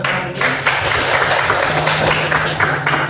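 A class of students applauds together in a classroom, a steady, dense wash of many hands clapping that stays loud and even throughout.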